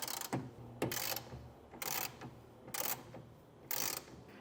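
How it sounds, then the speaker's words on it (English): A 7/16 socket wrench ratchets as it tightens a rail on a Pace Edwards Switchblade retractable hard tonneau cover on a 2024 Chevrolet truck bed. It makes four short bursts of ratcheting clicks, close by and fairly quiet. "I'm going to come back through with a 7/16 socket and wrench and tighten it the rest of the way on both sides"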